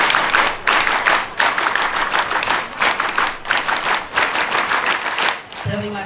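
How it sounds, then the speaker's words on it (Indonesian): An audience performs the Pramuka scout clap twice at an Indonesian religious gathering: loud, close group clapping in rhythmic bursts with brief gaps, ending with a voice. "2 kali tepuk pramuka."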